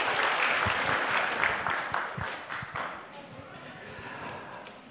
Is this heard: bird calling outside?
no